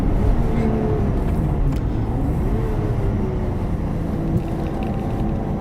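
A Lotus Evora sports car's engine drones steadily on a race circuit, a loud continuous onboard roar with gliding pitch changes as it revs through the gears.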